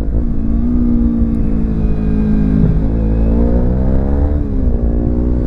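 Kawasaki Z300 motorcycle engine on a ride down a descent, a steady mid-pitched drone with smooth rising and falling revs, close and loud throughout with no talking.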